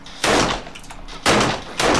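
Gunfire in 7 Days to Die: three loud close shots or short bursts, the first and second about a second apart and the third quickly after, with quiet gaps between and no talking.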